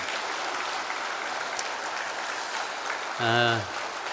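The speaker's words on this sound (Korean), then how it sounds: "여러분이 300만 농민이다 생각하시고 큰 박수를 한번 부탁을 드립니다" Delegates at a Korean farmers' cooperative's regular meeting fill the hall with a continuous, rain-like roar of applause that holds steady for several seconds. Near the end, a brief voice sounds out over the clapping.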